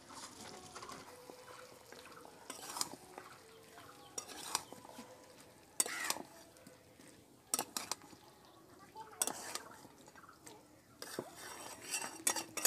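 Potatoes go into a pot of chicken curry with intermittent clinks, scrapes and knocks of a utensil against the pot, scattered irregularly over a quiet kitchen background.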